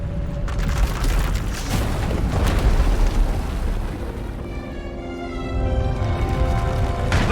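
Runaway power erupting in the SWTOR game, a loud continuous roaring rumble with booming bursts that swell and then settle into a sustained, rising hum toward the end.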